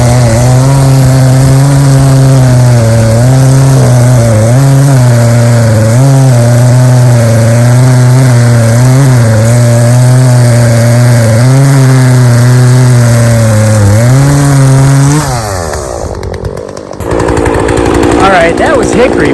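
A cheap chainsaw runs loud and close while cutting hickory wood, a steady high engine drone that bogs and wavers under load, then winds down near the end.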